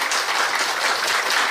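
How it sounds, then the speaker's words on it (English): Sustained applause from an audience at the grand opening of a new Buddhist center building in Singapore, a dense steady wash of many hands clapping, even and continuous throughout without speech over it. "A round of applause, ladies and gentlemen."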